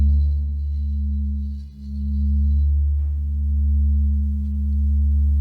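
A Himalayan singing bowl rings out with a deep, sustained tone and strong low harmonics, swelling and fading slightly while a faint high shimmer fades out partway through; no voices are heard.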